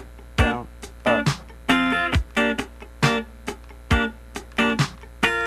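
Funk rhythm guitar played slowly, choppy muted strums and short chord stabs in a steady up-down pattern, percussive scratches between them, close and moderately loud with no voice over it.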